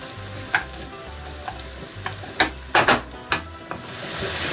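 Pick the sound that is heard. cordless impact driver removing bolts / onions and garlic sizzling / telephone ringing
onions and garlic sizzling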